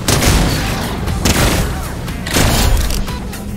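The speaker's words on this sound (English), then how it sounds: "they're shooting both from both angles" Gunfire comes from two directions in a Fortnite match, with loud bursts of rapid shots in repeated volleys close by.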